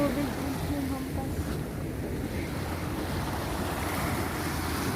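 Strong waves surge and crash against the shore during a walk with a dog, a loud, continuous wash of surf mixed with wind buffeting.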